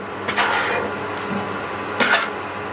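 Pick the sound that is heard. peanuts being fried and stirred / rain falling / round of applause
peanuts being fried and stirred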